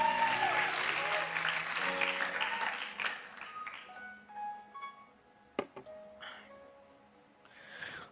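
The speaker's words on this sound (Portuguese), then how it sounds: "Você pode aplaudir o Senhor" A church congregation claps for several seconds in a dense, fading round that thins out around the midpoint, leaving sparse claps, a sharp knock and a few scattered voices.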